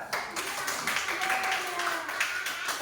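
Schoolchildren clap their hands in a classroom during a lesson on loving others, a steady patter of overlapping claps through the whole stretch, with voices calling out above it.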